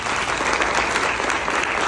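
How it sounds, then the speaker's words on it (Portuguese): A church congregation at a healing seminar claps in dense, steady applause that fills the short stretch at an even level, with no voices over it. "Aplauda ao Senhor."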